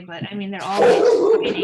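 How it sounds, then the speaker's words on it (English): A dog barks and yips sharply under a woman's ongoing speech, the short excited barks overlapping her talk near the end. "Sorry about my dog."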